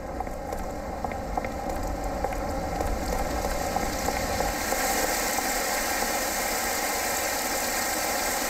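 A 65-horsepower car engine in the video game Mafia, a steady mid-pitched idle rumble that runs continuously and holds a constant moderate level throughout.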